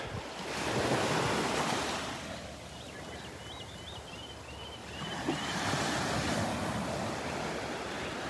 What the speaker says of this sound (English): Birds and the little waves.